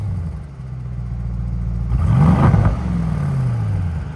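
A 2025 Mercedes GLE 63 S with a 4.0L bi-turbo V8 and straight pipes in sport mode, idling before one sharp rev swells loud and close, then the exhaust note falls back as the revs drop.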